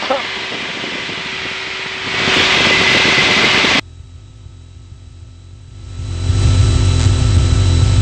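A light aircraft engine runs on the ground before takeoff on a joyride flight at Le Mans, a loud steady drone that surges louder twice and dips once, with people talking nearby.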